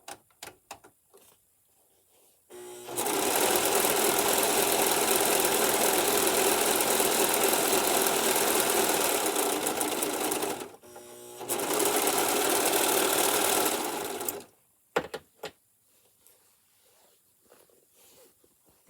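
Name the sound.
Singer Profinish serger sewing fabric edges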